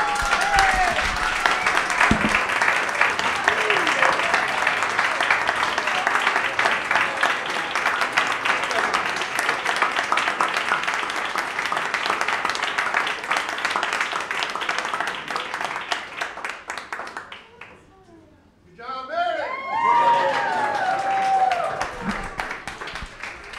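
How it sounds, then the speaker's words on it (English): An audience applauds and cheers a prize winner at a photo contest award, with loud, sustained clapping and whoops over talk. The applause dips briefly and then rises again. "You have a whole cheering squad over here, Meredith."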